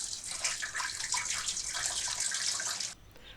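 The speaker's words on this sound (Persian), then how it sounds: "بعدن لوبیاها رو با آب سرد آبکش میکنیم و میذاریمشون کنار" Running cold water pours steadily over chopped green beans in a colander, a bright, continuous splashing rush close by that stops abruptly near the end.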